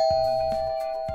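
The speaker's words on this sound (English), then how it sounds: "Sorry, that's the doorbell." A doorbell rings with a few electronic chime tones, a steady sustained tone with repeated strikes, fairly clear and close.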